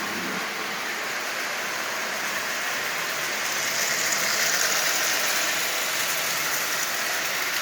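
A Lionel 8410 General toy locomotive running at low power pulls Marx tin litho cars, giving a steady, close whirring rumble with faint rattling that keeps an even level throughout.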